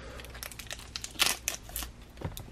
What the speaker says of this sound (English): Get this tape off.